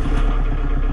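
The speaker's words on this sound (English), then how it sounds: "And so let's fire up the tractor." A tractor engine at a sawmill fires up, a dense, steady low rumble with clattering that fills the short stretch at close range and high level, with no talking.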